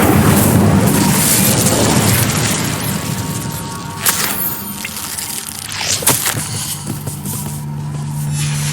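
Incendio fire spell in Hogwarts Legacy, a loud roaring whoosh of flame with booming bursts, then settling into crackling, sputtering fire with sharp pops.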